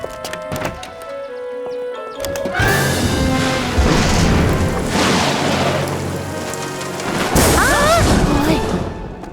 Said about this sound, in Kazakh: Күн күркіреу деген қатты дыбыс қана